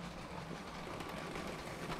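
A LEGO train runs along its track through a LEGO city layout, giving a faint, continuous rolling rumble with light clicking texture, steady and unbroken.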